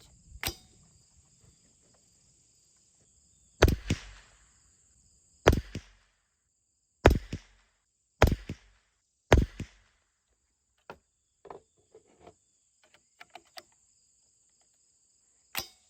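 CCI Subsonic .22 rounds fired from an AR-22 rifle at targets outdoors: five or six sharp, fairly loud cracks spaced a second or two apart, each followed by a short metallic clink, with faint ticks afterward.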